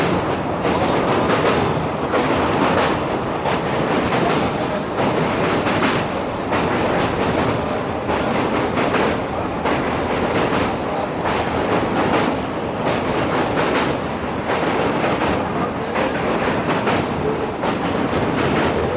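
A train rumbles across the Kolaghat railway bridge up close, loud and steady, with a rhythmic clatter of wheels over the rails throughout.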